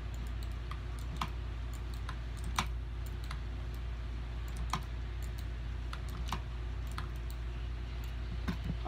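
Rapid keyboard typing and mouse clicks during a computer game, with irregular sharp taps scattered over a steady low background hum, close and fairly quiet.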